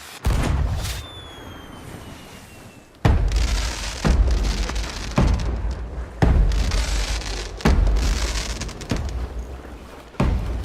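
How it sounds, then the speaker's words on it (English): A firework explodes with several reports, a string of loud, sharp booms about every second and a half, each fading before the next. "I don't know what firework that was, but that one had several reports."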